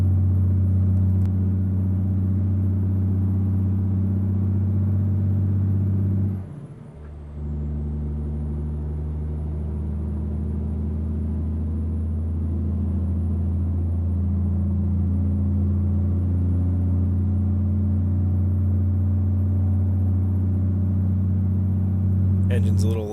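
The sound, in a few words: truck engine in video game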